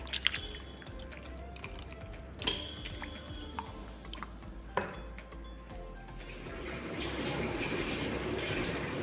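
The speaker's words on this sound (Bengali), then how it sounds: "আমগুলাই তিন চার ঘন্টা ভিজে রাখছিলাম একটু ধুয়ে নেই ভালো করে" Mangoes washed in water after soaking, with dripping and sloshing, light splashes and a few sharp clicks, fairly quiet and close, no voices.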